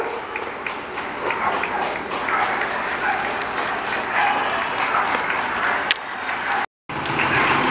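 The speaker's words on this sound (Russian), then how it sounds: "Аплодисменты 8-часовые." Neighbourhood applause rings out from balconies at eight o'clock in a Spanish town, sustained scattered clapping from many people at a distance, steady throughout with a short break near the end.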